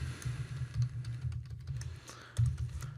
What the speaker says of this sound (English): So we're going to type in some basic HTML code.